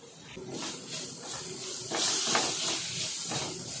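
Ginger garlic paste and masala sauté in a pan, producing a steady, loud steamy hiss that swells midway and pulses slightly as it is stirred, close up and without talk.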